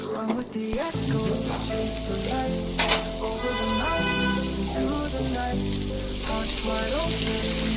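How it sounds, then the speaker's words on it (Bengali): Onion rings fry with spices on a tawa griddle, a dense continuous sizzle with occasional stirring, partly under melodic background music. "ওই যে যে মশলাটুকু ছিল সেটার মধ্যে রিং রিং করে পেঁয়াজগুলো দিয়ে দিলাম"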